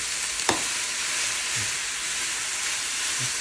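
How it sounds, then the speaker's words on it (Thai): Vegetables being stir-fried in a hot pan for a Thai vegetable curry give off a steady, bright sizzle, broken by a few soft clinks and scrapes of the utensil against the pan. "ระหว่างเราผัดผักเรา"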